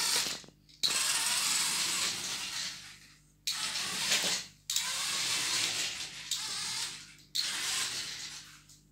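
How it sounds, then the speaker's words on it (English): A robotic rickshaw model runs on 300 rpm motors at the rear and 10 rpm motors at the front, giving a steady whirring, ratcheting gear drone in several bursts separated by brief stops, close and fairly loud. "Here in this model, we used 300 rpm motors at the back and 10 rpm motors at the front."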